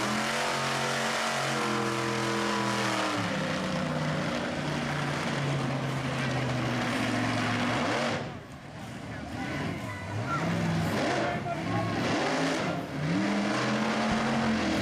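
The Captain USA monster truck, now giving rides at a harvest festival, roars loudly and steadily up close, its engine note rising and falling, with people talking over it.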